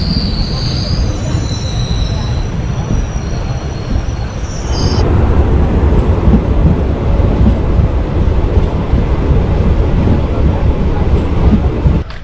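A train standing at the platform of a railway station rumbles loudly and continuously, with high wheel or brake squeals in the first few seconds that cut off sharply, then a dense, heavy roar carries on to the end.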